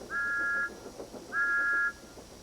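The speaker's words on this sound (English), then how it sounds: "Thomas's whistle sounds like this in the countryside." Two clear, steady whistle blasts from Thomas the steam engine out in the countryside, each about half a second long with a short gap between, bright and dry with no echo.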